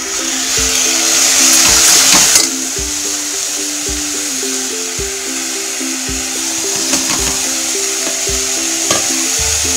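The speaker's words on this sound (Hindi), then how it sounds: "जैसे ही हल्दी रंग छोड़े, इसमें हम डाल देंगे चावल जो हमने भिगो रखे हैं" Soaked basmati rice tipped into hot oil with turmeric and stirred, giving a close, even sizzle with a brief louder hiss near the start and regular spoon scrapes against the pan.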